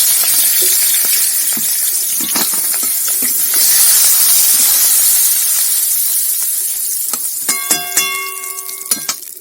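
Pieces of rohu fish fry in hot oil with a loud, steady sizzle and hiss throughout, and a few sharp clinks of a utensil come toward the end.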